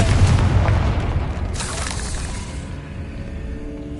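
A Confringo fire spell explodes in the Hogwarts Legacy video game, set in an old decayed catacomb. A single heavy boom opens the clip, then a brief crackling burst follows and the sound fades into a low rumbling tail.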